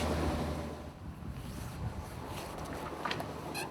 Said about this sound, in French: la houle est là, présente, avec des ondulations un petit peu mouvantes